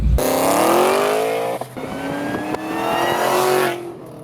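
Supercharged built engine of an 800-horsepower 2008 Shelby GT500 with aggressive cams, revving loud and close with a choppy, loping idle character and rising and falling engine tones.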